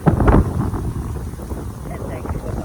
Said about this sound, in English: I'm sure you can tell it's windy